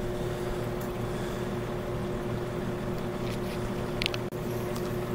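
A JiangDong JF168 5.5 hp engine on a Chinese generator drones steadily and close, a loud, continuous motor hum with a small knock near the end and no talking.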